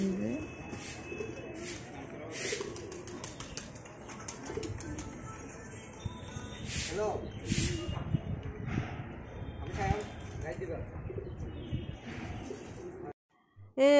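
Pigeons coo in soft repeated bursts around the Tripureshwari temple grounds during evening circumambulation, with people talking nearby and a roomy, echoing background.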